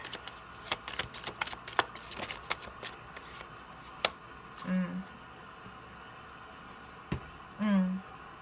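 Tarot cards shuffled by hand in a quiet room, soft riffling and sharp card snaps in scattered bursts, close and fairly faint, with a couple of low thumps.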